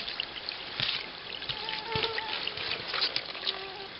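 Water trickling steadily out from a leak under a springbox at a camp, a soft continuous close-up babble with small splashes and faint voices in the background.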